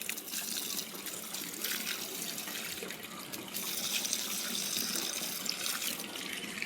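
Cold water runs out of a tap or pipe to water dried-out plants, a steady rushing trickle and splash that is fairly soft and constant throughout, with no voices.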